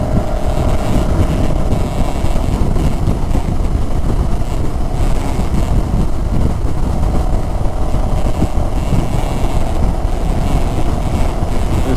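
CFMoto CLX 700 motorcycle cruising on a highway, a steady loud engine drone with constant wind rush throughout, no pauses or talk.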